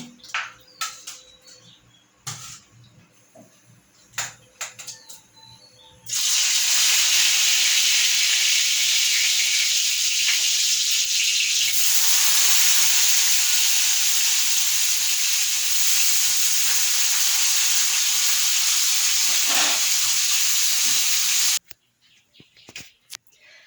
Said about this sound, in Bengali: কড়াইতে তেল দিয়ে সিদ্ধ করা আলুগুলো আমি একটু ভেজে নেব